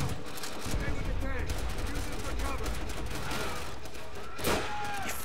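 Rapid gunfire crackles through a Call of Duty: World at War battle, with dense overlapping bursts and shots throughout and a sharp blast near the end.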